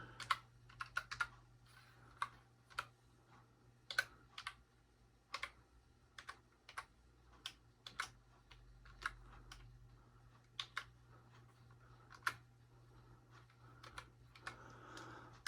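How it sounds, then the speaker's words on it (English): A password is tapped out on a computer keyboard during login on an old, slow computer, a string of light, irregular key clicks heard close and quiet over a faint background hum. "get to the login screen, put in the password"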